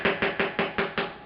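A small hammer strikes repeatedly while prying apart rotary engine parts during disassembly of a 1976 Mazda RX-5 Cosmo, seven sharp, evenly spaced metallic taps close up.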